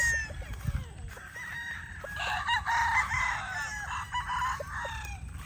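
A young Gilmore cross stag crows once, a fairly faint drawn-out call at moderate distance, with clucks and soft farmyard noise around it.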